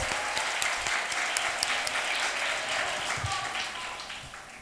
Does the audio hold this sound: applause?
yes